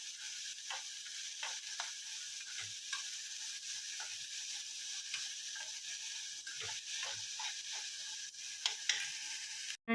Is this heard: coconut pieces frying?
yes